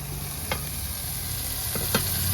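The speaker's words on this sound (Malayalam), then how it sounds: "എല്ലാം കൂടെ നല്ല വഴറ്റി പച്ചക്കറികളൊക്കെ ഒന്ന് വഴന്നിട്ടുണ്ട്" Carrot and capsicum sautéed in a pan, a loud steady sizzle up close with a few sharp spatula scrapes as the vegetables are stirred.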